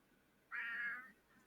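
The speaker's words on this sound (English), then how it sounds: "We also appear to hear the calls of a desert cat." A desert cat in a fantasy jungle setting gives a single drawn-out meow lasting about half a second, faint and distant against a quiet background.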